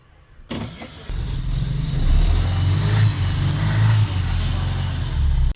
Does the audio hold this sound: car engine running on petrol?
yes